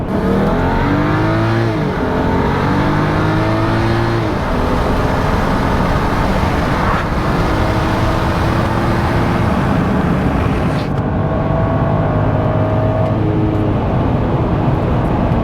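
A BMW F10's engine revs and climbs steadily through the gears, a loud continuous drone heard from inside the moving car.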